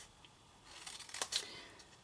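Scissors cutting through cardstock, a quiet close snip or two with faint paper rustle, no talk.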